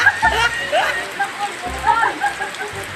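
Rainy-season rain hissing steadily in the background, a continuous broadband wash with faint patter, while people talk and call out over it nearby.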